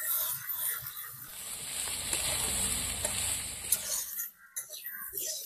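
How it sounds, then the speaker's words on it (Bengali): A spice paste being fried with pieces of elephant foot yam in a pan gives a soft, steady hiss and sizzle for about four seconds, then drops away into a quieter stretch with faint clatter. "মশলাটা ভালো করে ভেজে নিয়েছি"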